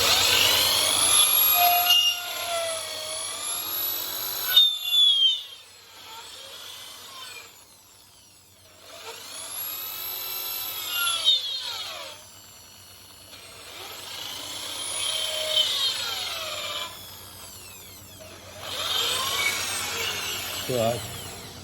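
Power tool grinding and shaping the mouthpiece of a shofar horn, a high whining burr in repeated bursts of several seconds each, separated by short pauses, close and fairly loud.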